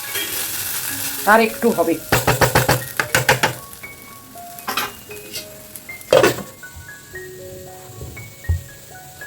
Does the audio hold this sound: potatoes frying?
yes